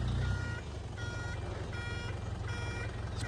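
Repeated electronic reversing beeps from a wood delivery truck backing up, four evenly spaced beeps over a low diesel engine rumble, no talk.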